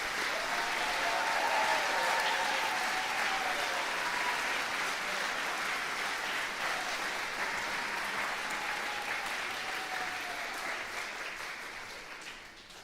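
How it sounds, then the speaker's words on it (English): A school band concert audience claps for the senior band members: sustained, dense applause from a large crowd, steady for most of its length before tapering off slightly at the end. "One more round of applause for our senior band members."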